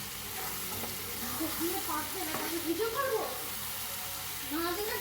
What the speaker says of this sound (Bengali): দিলাম ধনে পাতা দিলাম গরম মশলার গুঁড়ো দিলাম গোলমরিচ এবার ভালো করে এটাকে নাড়বো